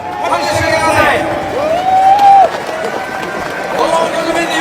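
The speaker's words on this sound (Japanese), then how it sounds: "拍手してください。" A boxing crowd at a Casimero event makes a loud, continuous wash of clapping and cheering, with shouts and voices rising above it.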